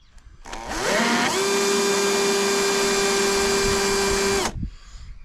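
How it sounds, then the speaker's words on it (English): A power drill whirs up to a steady high-pitched whine for about three seconds, then winds down, making a pinhole through tape on a fibreglass bumper for a 1992 Nissan 300ZX; close and loud, no talking. "get to the drill and just make a rough mark in the middle there"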